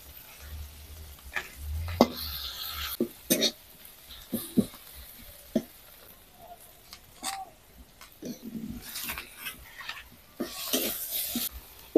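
Onions frying in oil in a pan, with intermittent sizzle bursts and spatula scrapes and knocks against the pan, irregular and close up, no talk.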